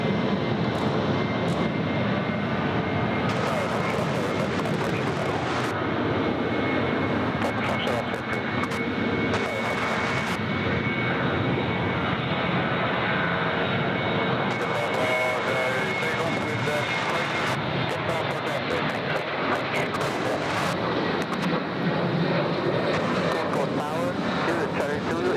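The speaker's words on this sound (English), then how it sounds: "Let's enjoy this Virgin departure together." A Virgin airliner roars on its takeoff run from runway 14 at Gold Coast Airport, a loud sustained jet engine rumble with a voice talking over it.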